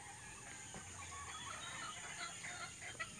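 Hens cluck softly and intermittently in a small backyard chicken yard, faint and somewhat distant over a steady background hum, with no talking.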